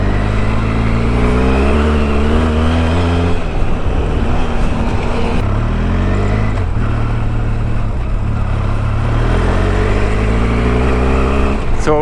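A Benelli TRK502X motorcycle ridden offroad at the end of summer, its engine droning steadily and loudly with shifting pitch as it revs and eases, wind rumble underneath throughout.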